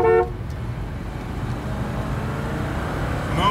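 A supercar rolls past on a small-town street, a steady engine and road rumble bracketed by short horn toots at the start and end, fairly close.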